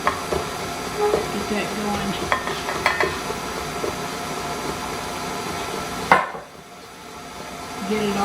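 A spoon scraping and stirring fudge cake mixture in a pan, continuous close clinking and swishing that stops abruptly near the end, followed by quieter room noise.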